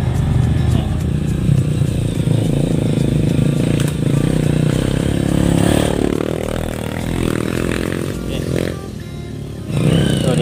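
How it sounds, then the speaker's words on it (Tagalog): An enduro motorcycle engine growls and revs nearby on a mountain trail, rising and falling as it passes, with scraping and clattering noises mixed in. "Okay guys, ito na, may narinig na akong motor."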